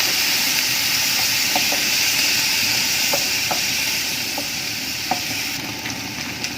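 Water poured into a pan of stir-fried chicken filling sets off a steady, loud sizzle and steam hiss, with a few soft stirring clicks scattered over roughly seven seconds of continuous frying noise.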